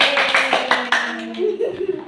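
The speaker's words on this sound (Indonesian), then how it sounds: "Kita tepuk tangan buat Alif." A classroom of pupils claps in a short burst of quick, close, fairly loud handclaps that stops after about a second. Voices carry on right after.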